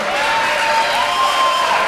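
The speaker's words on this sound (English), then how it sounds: "And the crowd now firing up." Wrestling-match crowd noise: a steady, dense roar of cheering and applause from a large audience, sustained at an even level throughout with no pauses.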